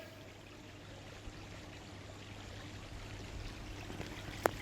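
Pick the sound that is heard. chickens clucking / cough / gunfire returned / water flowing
water flowing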